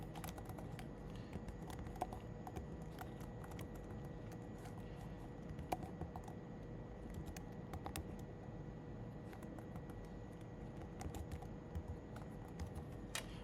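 Steady typing on a computer keyboard as a file name is entered while saving an Arduino UNO sketch, a continuous patter of quiet key clicks over room hum, with no speech.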